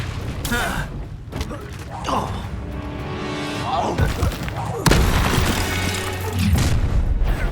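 A Confringo fire spell bursting in a Hogwarts Legacy battle, booming impacts and crackling debris over clashing magic effects, with voices speaking between the blasts.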